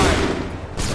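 A militia volley in Assassin's Creed III, set at the North Bridge at Concord, bursts out as a loud, dense crackle of musket fire that fades and then flares again with a second sharp report.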